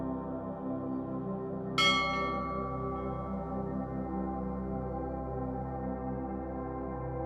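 A single bell rings out once, bright and sustained, fading slowly over a steady low droning background during a sleep hypnosis session.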